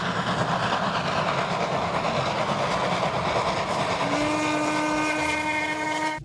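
A toy steam train rattles and chugs steadily, then a whistle-like tone joins in over the clattering mechanism.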